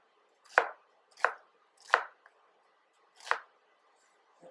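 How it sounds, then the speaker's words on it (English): A knife slices onions on a cutting board in a home kitchen, giving five crisp, evenly spaced chops close up against a quiet background, with no talk. "So I'm going to slice my onions"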